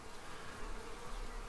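Honey bees buzzing around an observation hive, a steady dense drone close by with no talk.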